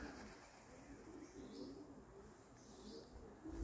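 A group of racing pigeons arrives home in summer heat after a 50-kilometre training flight, with faint cooing over a steady low background wash.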